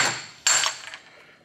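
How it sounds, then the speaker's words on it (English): Two sharp metallic hammer blows on a Nissan Skyline R33 car part with a bearing attached, the second louder, each ringing briefly before fading; close by, with no talking. "let's see if the hammer method works"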